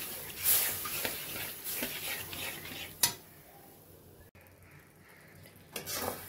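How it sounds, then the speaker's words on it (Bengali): A spoon scrapes and stirs milk into melted jaggery in a pan while making a sugar-free suji sweet, with soft swirling, a few sharp metallic taps and a faint sizzle. "দুধটা ভালো করে মিশিয়ে নেব।"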